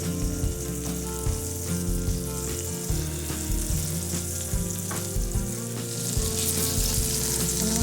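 Salmon fries in lemon butter over medium-high heat, giving a steady, close sizzle with crackling pops throughout and no voices.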